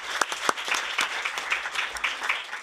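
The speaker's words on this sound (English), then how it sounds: "a big applause also for our interpreters helping us for this session" Audience at a conference session on EU cities, regions and the Paris Agreement breaks into applause, with separate claps standing out sharply over a brief, moderately loud burst of clapping.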